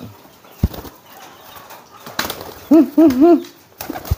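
Pigeon cooing in a few close, rhythmic bursts, preceded by sharp wing flaps and rustling, during a homing pigeon training session.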